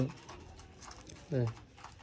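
Pigeons give two short, faint, low coos about a second apart in a quiet outdoor setting.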